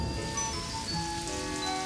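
Steady rain patters continuously over a surface, a dense even hiss with faint tonal hum in the background and no voices.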